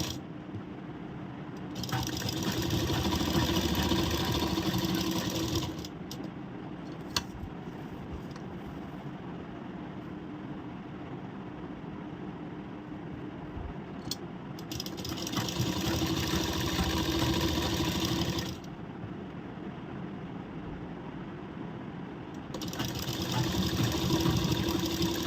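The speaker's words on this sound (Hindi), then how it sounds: "तो नेक पे पहले सिलाई लगा लेते हैं।" A sewing machine runs in bursts while stitching along a blouse neckline, close whirring passages of a few seconds each separated by quieter pauses with light mechanical clicks.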